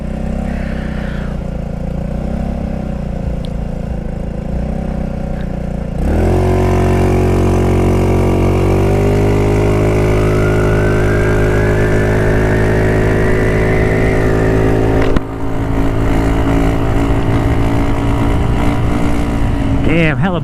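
A GY6 150cc scooter engine with a loose exhaust runs close and loud while riding, dropping to a low idle and then revving up strongly with a rising whine before easing back down.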